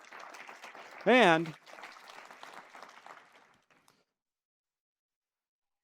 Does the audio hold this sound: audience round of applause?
yes